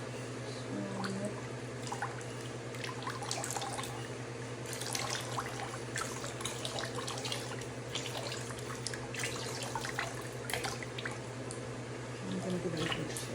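Liquid ceramic glaze is swirled around inside a curved cake plate, making a continuous wet sloshing and trickling sound with scattered small splashes, close and moderately quiet over a low steady hum.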